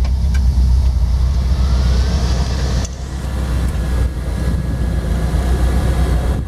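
A 1956 Chevy Bel Air two-door hardtop resto-mod idles with a deep, steady, loud rumble close by. A brief dip midway gives way to the same even idle, with no talking.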